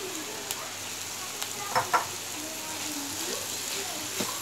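Mutton frying over a low flame for dhaba-style bhuna gosht, a soft steady sizzle with a couple of brief stirring clatters midway, fairly quiet and close, no talk.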